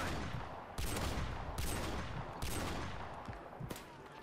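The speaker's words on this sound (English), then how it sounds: "It's a fucking 50 caliber sniper rifle with deep impact on." A .50 caliber sniper rifle fires in a shooter video game, loud sharp blasts repeating about every second with echoing tails between shots, no talking.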